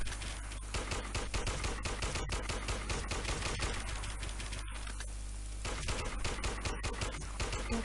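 Rapid automatic gunfire in the video game Warmode, dense bursts of shots crackling nearly nonstop with a couple of brief pauses, loud and close with no talk.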